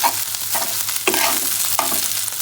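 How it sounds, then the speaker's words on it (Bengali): Seasoned beef frying in hot oil in a kadai, a loud continuous sizzle with sharp bursts as the meat is stirred, no voices. "কড়াই একটু তেল গরম করে মাংস মাখাটা ভালোভাবে ভেজে নেব।"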